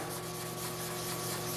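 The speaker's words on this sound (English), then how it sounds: "Need a bit more sanding." Fine abrasive paper rubs steadily across a scratch on black car paint, making a soft continuous hiss with faint, even strokes and no voices.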